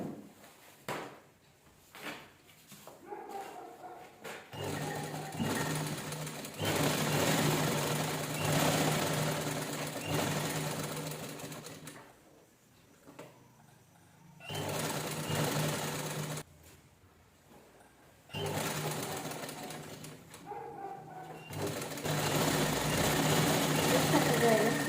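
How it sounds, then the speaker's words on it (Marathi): A sewing machine stitches the neckline of a jeans top made from a saree in several bursts of rapid mechanical whirring, separated by short pauses with handling clicks. "ह्याला पण आपण गळ्याला स्टिच करून घेऊया."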